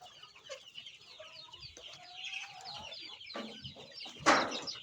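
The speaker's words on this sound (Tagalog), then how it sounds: "Magpapakain naman tayo ng mga sisiyo natin." Young chicks and hens cluck and peep at close range during feeding, with soft irregular calls, a short rising chirp and a sharper squawk near the end.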